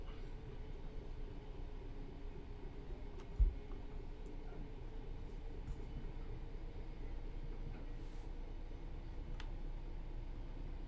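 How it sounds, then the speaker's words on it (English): A Class 66 locomotive in the Train Sim World 3 video game gives off a constant low whirring drone heard from inside the cab, with faint occasional ticks and one brief thump. "He said that whir, that drone is just constant when you're in the train."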